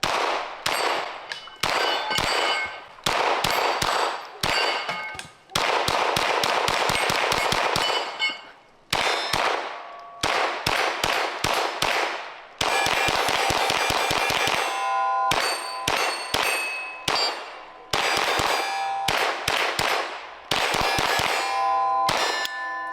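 Rapid strings of gunshots from a youth rifle, each with a sharp metallic clang and ringing ping from steel targets, coming in bursts with short pauses between volleys.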